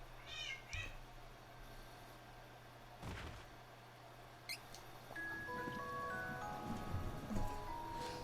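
A cat meows during a Trials of Mana game session, a faint short call early on over low background hum, followed by quiet scattered game sounds.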